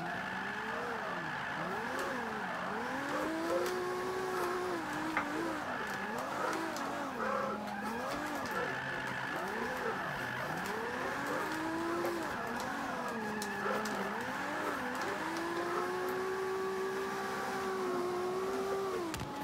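Toyota Supra drifting in Forza 5, a racing video game, with an engine revving and wailing steadily while tires squeal in long sweeping arcs, loud and continuous throughout with no pauses.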